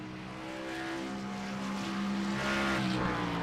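A Team Fist race car taking a qualifying lap at Charlotte, its engine drone rising steadily in pitch and loudness as it approaches, with no talk over it.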